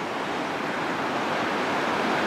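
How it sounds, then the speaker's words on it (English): A river riddled with small waterfalls gives off a continuous, dense rushing roar, steady and fairly loud, like nearby cascading water with no voices over it. "I'm guessing this river is riddled with falls."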